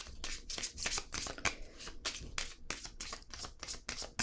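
Playing cards being shuffled close up, a steady run of riffles and crisp flutters that repeat in bursts for several seconds with no talking.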